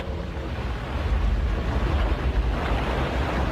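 A sailing ship at sea in a Doraemon animated film, heard as a steady rush of wind and waves with a low rumbling wash, continuous and fairly loud, with no voices.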